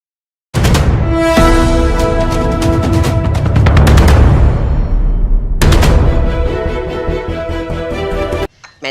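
Gunfire in war news footage: dense, loud bursts of rapid shots echoing close by, with a brief pause and then another long volley before it cuts off abruptly.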